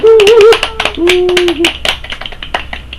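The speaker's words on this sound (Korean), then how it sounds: "자, 박수." A small studio group at a Korean podcast recording claps briefly, a few sharp scattered hand claps mixed with whoops and cheering voices that fade after a couple of seconds.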